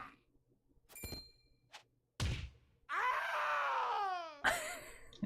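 Characters in the video game Triangle Strategy cry out as they are struck: a few sharp thuds, then a long wavering, falling scream and a second short cry, loud and close with no talk.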